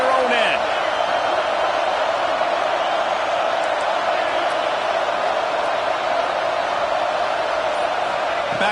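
A dense, sustained roar from a packed stadium crowd at a college football game, Georgia against Ohio State, loud and steady throughout with no break.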